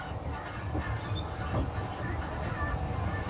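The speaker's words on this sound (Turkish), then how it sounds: "Bak gördün mü gidiyor. Tren gidiyor." A small ride-on train in a shopping mall rumbles steadily along with a low, continuous mechanical drone, with people talking faintly over it.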